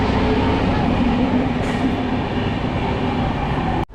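A passenger train pulls out of platform one at Masagram Junction, giving a loud, steady rolling rumble heard from on board that cuts off abruptly at the very end.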